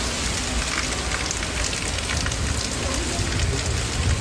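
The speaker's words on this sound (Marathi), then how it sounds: "आता सीएसएमटी परिसरात सुद्धा पाऊस पडतो" Steady, dense monsoon rain pours down without pause around CSMT in Mumbai, a broad hiss with low rumbling underneath, fairly loud and close throughout.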